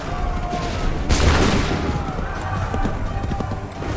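Musket volley gunfire in the Assassin's Creed III video game, a dense rolling crackle of shots with booms and mechanical clatter, heard loud and close under shouted battle commands.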